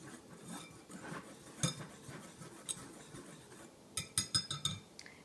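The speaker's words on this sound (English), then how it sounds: "I'll use a whisk to sift those together." A whisk stirs baking soda, baking powder and salt together in a bowl, making soft, quiet scraping and light clinking, ending in a quick run of brisk metallic taps.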